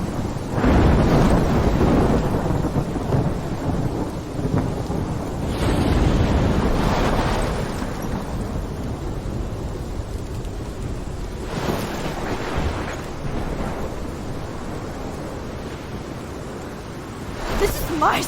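Roaring storm from Life is Strange Remastered, with heavy wind and crashing ocean surf filling the scene, loud and continuous with surging swells, while voices speak over the turbulent weather.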